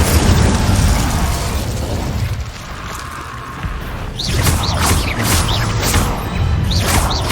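Incendio fire spell cast in Hogwarts Legacy, loud roaring bursts of flame and crackling magical whooshes with swelling booms, continuous and close, easing briefly midway before flaring up again.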